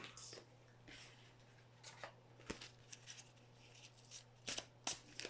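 A deck of Sagesse des Dragons oracle cards is handled and shuffled close up, with soft papery riffles and sharp flicks scattered across the quiet moment.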